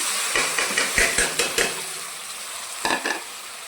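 Moth beans and peas tumble into browned onion and oil, sizzling steadily while a spoon scrapes and stirs in short rhythmic strokes against the pan, close and clear with no talk.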